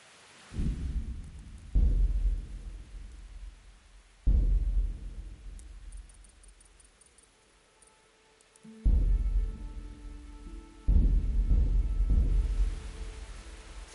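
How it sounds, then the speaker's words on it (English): Video game thunderstorm: several deep, booming thunder rumbles strike at intervals, each sudden crack fading into a long low roll, with quiet gaps and faint rain between them. "This storm is a sign from God."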